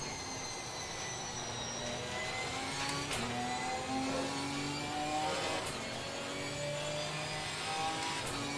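A GT4 race car's engine in Assetto Corsa Competizione drones steadily at moderate level, with rising whines and several abrupt pitch drops from gear shifts as it accelerates, no voices.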